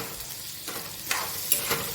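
Upma stirred in a kadai with fresh coriander mixed in: scraping strokes of a spoon against the pan over a continuous soft sizzle, a few sharper scrapes standing out, with no talking.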